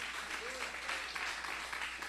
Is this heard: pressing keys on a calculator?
no